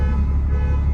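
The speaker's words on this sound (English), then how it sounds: "the car alarm." A car alarm blares on a London street at night, a steady, loud electronic tone that holds without a break for the whole second.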